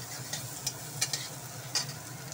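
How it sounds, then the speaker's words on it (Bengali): Chopped onion frying in a pan, a soft continuous sizzle broken by a few sharp spatula scrapes and taps as it is stirred, close and without talk. "একটু নাড়াচাড়া করে নিয়ে পেঁয়াজটা দিয়ে দিচ্ছি।"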